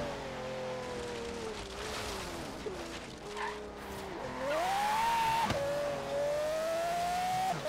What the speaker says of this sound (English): Now I got the loud car.